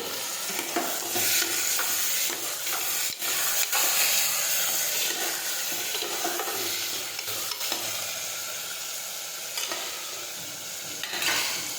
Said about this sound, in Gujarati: હવે આપણે સમારેલા ટમેટા નાખી દઈશું હવે આપણે સાતળી લઈશું